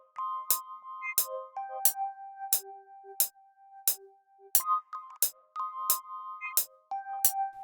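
Yamaha S80 synth melody warped through a shaper box and filter effects, bright sustained tones stepping between pitches, chopped by sharp rhythmic percussive hits in a steady beat.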